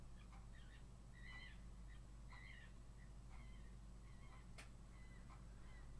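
A bird squeals outside at night in a series of faint, distant, high-pitched calls repeating every second or so over a steady low hum.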